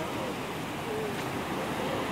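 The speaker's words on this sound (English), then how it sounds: "that is some big waves" Large ocean waves surge and wash onto the shore at Cocoa Beach, a steady broadband roar with wind buffeting the microphone, no distinct individual crashes standing out.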